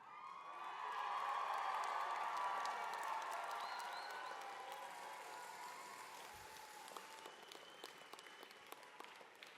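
A large graduation commencement ceremony crowd applauds steadily with scattered cheers and whoops, loud at first and slowly tapering off over several seconds.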